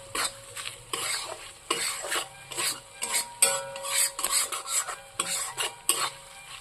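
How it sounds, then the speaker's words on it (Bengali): A spatula scrapes and stirs masala frying in a pan, in rhythmic strokes with metallic clinks against the pan and a soft sizzle underneath, and no one speaks. "এবার এটাকে আমি একটু মশলাটাকে একটু কষিয়ে নিচ্ছি, যাতে করে মশলার গন্ধটা না থাকে।"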